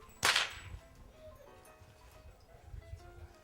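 A single sharp whip crack near the start, loud and close, followed by quiet rustling and faint background noise.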